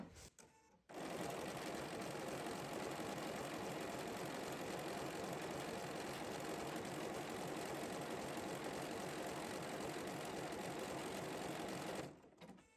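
A sewing machine stitches a feather pattern on a crazy patchwork heart, its rapid steady mechanical whirring running close and loud for about eleven seconds before stopping.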